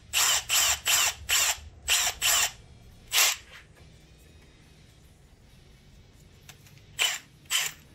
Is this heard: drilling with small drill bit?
yes